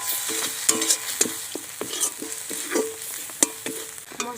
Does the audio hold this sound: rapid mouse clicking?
no